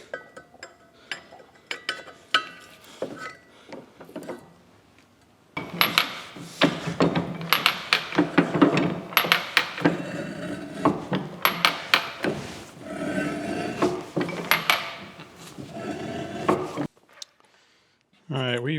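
Metal shims are placed into a capstan broaching setup on a cap casting, giving sharp metallic clinks and knocks in irregular clusters, close and fairly loud. Some speech is mixed in, and the clatter stops short near the end.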